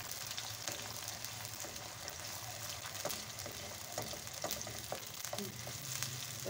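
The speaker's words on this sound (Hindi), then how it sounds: "अब इसमें हम लोग डाल देते हैं प्याज का पेस्ट, इसको करते हैं फ्राई" Onion paste frying in about half a cup of oil, for a chicken karela curry, makes a low continuous sizzle with scattered crackles and a few soft stirring knocks, fairly quiet and without talk.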